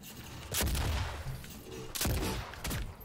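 Rapid bursts of gunfire in DOOM on the Nintendo Switch: two loud volleys, near and sharp, with a busy background of game effects between them.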